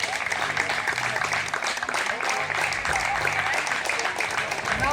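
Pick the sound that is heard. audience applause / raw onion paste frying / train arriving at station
audience applause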